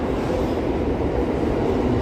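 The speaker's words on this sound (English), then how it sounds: "Subway train." Subway train rumbling past below a New York City street at night, a steady loud low roar filling the whole stretch with no break.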